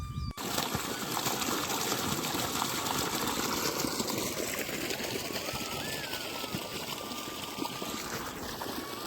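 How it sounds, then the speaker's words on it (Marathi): Irrigation water from a motor-driven pump rushes along a channel into a sugarcane field, a steady, close, continuous gushing flow with a faint whine above it and occasional birds in the background. "मोटर चालू करतो, पाणी आल्यानंतर मग तुमच्याशी भेटतो."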